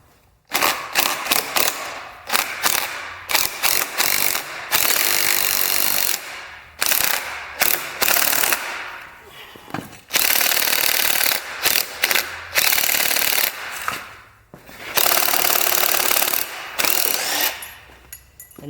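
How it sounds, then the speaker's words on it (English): DeWalt impact driver loosening the bar end weight on a 2017 Kawasaki Z650, loud close bursts of rapid hammering clatter in repeated runs of one to three seconds separated by short pauses, with no talking. "I'm going to use my DeWalt impact"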